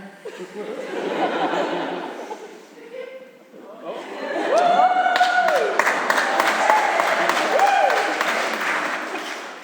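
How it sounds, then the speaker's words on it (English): Audience laughter breaks into clapping during a singer's show at Wilmot Church: chuckles and chatter give way to louder, sustained applause, with some speech mixed in. "You got applause for just saying it?"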